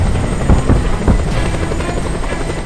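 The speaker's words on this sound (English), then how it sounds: "Helicopter coming in, which is good," A helicopter in the video game Just Cause 2 thumps close by, its rotor chopping in a loud, steady pulse with a few heavier beats, alone without talk.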